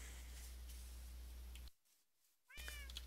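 A cat lets out a short, clear meow close by near the end, following a moment of near silence; no one speaks.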